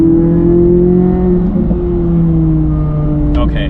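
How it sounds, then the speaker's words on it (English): Sports car exhaust droning steadily from inside the cabin while driving, a constant low engine note with a slight rise in pitch, no speech over it. "I can't get over the exhaust"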